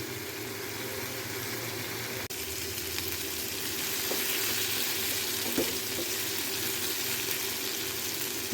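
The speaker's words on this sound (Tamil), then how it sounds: "இப்போ நல்லா சிக்கன் வெந்துட்டுருக்கு. அந்த எண்ணெயெல்லாம் நல்லா பிரிஞ்சு வருது, நல்லா ஃப்ரை ஆகிட்டுருக்கு" Chicken pieces fry in hot oil for Chettinad chicken fry, giving a continuous dense sizzle that grows slightly louder midway, with a few faint clinks.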